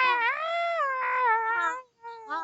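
A human voice imitates a loud, drawn-out cat cry, a single wavering yowl that rises and falls, then a brief pause and a short second cry at the end.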